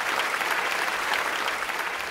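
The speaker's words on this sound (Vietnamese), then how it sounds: "một tràng pháo tay cho bốn thí sinh của chúng ta thưa quý vị" Studio audience applauding four contestants on a Vietnamese rap competition show, a steady, dense clapping that fills the space at even loudness without pause.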